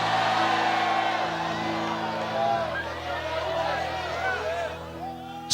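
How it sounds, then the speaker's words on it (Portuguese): Church congregation shouting glory during a sermon, a loud sustained crowd roar of shouts and whoops with held tones underneath, swelling and surging throughout. "Então dê mais um grito de glória para esse lugar tremendo."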